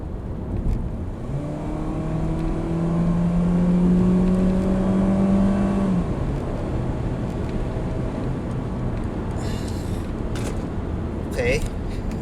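Mitsubishi Xpander engine revving up as the car accelerates, a rising drone climbing in pitch before settling into road noise, heard from inside the cabin.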